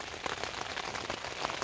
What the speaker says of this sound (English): Rain started about 2 o'clock.